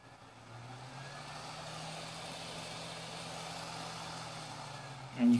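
A device's airflow fan winds up from quiet to a steady whirring hum that stays faint and even. A short click lands at the very end.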